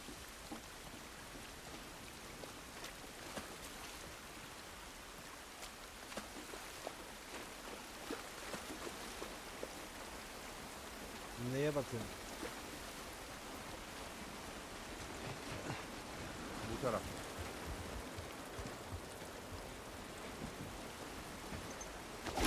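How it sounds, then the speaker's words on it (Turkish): Steady heavy rain in The Last of Us video game hisses evenly throughout, a dense wash of patter with a couple of faint electronic chirps in the middle. "Yağmurumuz da yağıyor vallahi şarıl şarıl."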